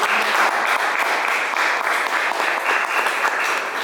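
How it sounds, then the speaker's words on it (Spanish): An audience at a book fair presentation welcomes an author with a strong round of applause, thick continuous clapping at a steady level with no talk over it. "ahora sí lo recibimos con un fuerte aplauso al señor Diego Boriski"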